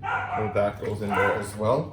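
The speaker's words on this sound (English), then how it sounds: "Sorry for my barking dogs." Dogs bark and yip in the background while a person keeps talking over them.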